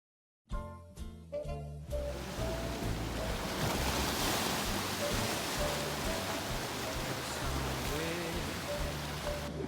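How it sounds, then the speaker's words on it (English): Ocean surf washing onto a shoreline near tide pools, a steady broad roar of breaking waves that swells in after a brief opening of faint music tones, continuous and fairly close with no voices. "There's the beautiful ocean."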